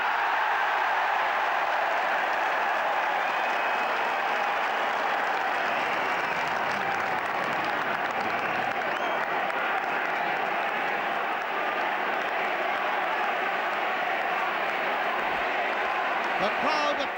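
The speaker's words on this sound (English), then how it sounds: "The crowd appealing for Iggy" Sustained crowd applause and cheering at the 1980 All-Ireland Senior Hurling Final between Galway and Limerick, a broad continuous roar from a large stadium audience with a commentator's voice faintly running beneath.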